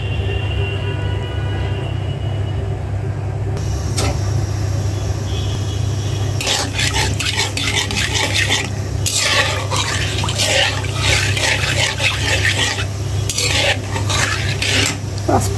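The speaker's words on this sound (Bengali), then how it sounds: "তেলে কয়েকটা পাঁচফোড়ন দিয়ে দিলাম।" Panch phoron spices frying in hot oil in a wok while making a hot and spicy olive pickle with Naga chillies, a steady close sizzle with dense crackling and spattering bursts that grow busier partway through.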